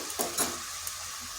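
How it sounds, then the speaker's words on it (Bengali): Ground turmeric, cumin, coriander and Kashmiri chilli powder fry in a pan for a lentil and taro dish: a quiet, soft sizzle broken by a few short scraping stirs of a spoon. "আর মশলাটা একটু কষে নিচ্ছি।"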